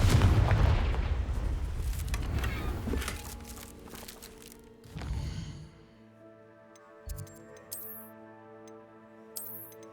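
A Confringo blasting spell explodes in Hogwarts Legacy, a loud burst at the start that fades into a rumbling decay, followed by quieter game ambience with soft ticks and chimes.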